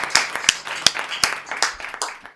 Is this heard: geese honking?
no